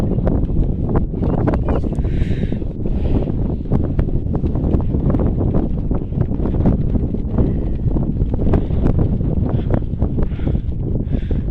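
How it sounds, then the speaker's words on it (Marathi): Strong wind sweeps across the summit of Kalsubai near the temple, roaring steadily and buffeting the microphone without a break for the whole stretch. "खूप वारा आहे इथं, त्याच्यामुळे थोडी थंडी पण वाजत आहे."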